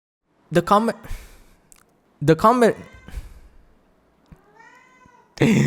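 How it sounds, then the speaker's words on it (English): Meows from a cat in the Elden Ring game come in two loud, drawn-out bursts separated by a pause. A fainter call follows, and a sharp new sound starts at the end. "Every time I speak, this motherfucker meows."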